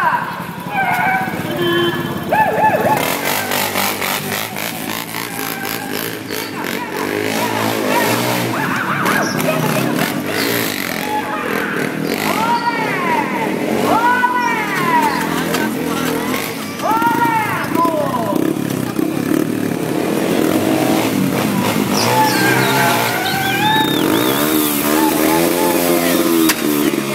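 A motorcycle at a radical stunt exhibition revs up and down in repeated rising and falling sweeps, loud and near, while an announcer talks excitedly over it throughout.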